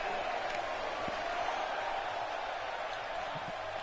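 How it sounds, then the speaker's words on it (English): A large indoor arena crowd at a live WWE Monday Night Raw wrestling show roars in a steady, dense wash of cheering that holds at a constant level throughout. "Would you listen to this crowd?"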